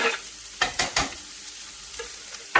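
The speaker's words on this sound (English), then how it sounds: "So, in the onions go." Onions frying in extra virgin olive oil in a pan for aubergine parmesan, a steady soft sizzle broken by a few sharp stirring or tossing clatters, close and without talk.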